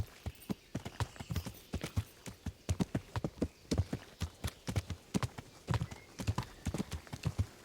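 Rapid clip-clop of a horse galloping in the medieval video game Kingdom Come Deliverance, with loud, close, evenly repeating hoof strikes that continue steadily throughout, and no speech.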